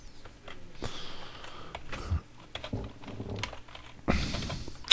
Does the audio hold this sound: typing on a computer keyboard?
yes